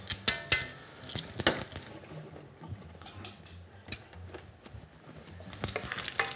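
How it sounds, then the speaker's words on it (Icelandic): Bacon frying in a pan, a steady close sizzle with crackling pops, interrupted by sharp clinks and scrapes of a utensil against the pan, with no talking. "Sjá til þess að ég brenni ekki baconið"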